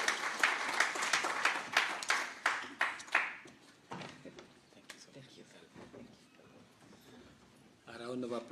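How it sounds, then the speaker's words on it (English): Scattered applause at a media breakfast award event as a guest walks to the podium, a few loud distinct claps early on fading into quieter background noise, with a voice coming in at the end. "A round of applause as he comes to the podium."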